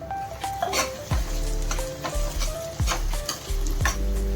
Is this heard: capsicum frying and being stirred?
yes